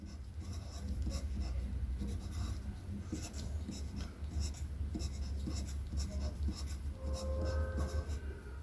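A pen writes out maths working on paper, the steady scratching and rubbing strokes continuing close and clear throughout, with a low hum underneath.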